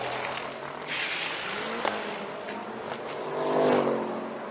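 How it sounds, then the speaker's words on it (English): A turbocharged 1975 Jeep Cherokee drag racing at a drag strip event, a loud continuous engine roar rising and falling as gears are shifted, heard from a moderate distance with a swell near the end. "Gear jamming fun over there for Hazenga."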